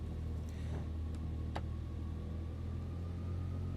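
Simulated piston engines of a Heinkel He 111 bomber in Microsoft Flight Simulator 2020 drone at idle, a low, steady, even hum with faint clicks over it.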